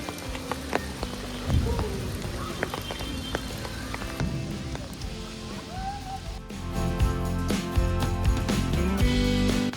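Rain showers fall steadily on foliage in the monsoon forest at Matheran, a continuous near patter of drops with scattered louder hits and faint movement underneath.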